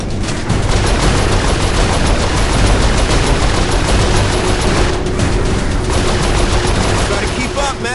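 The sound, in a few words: gunfire in the video game Saints Row IV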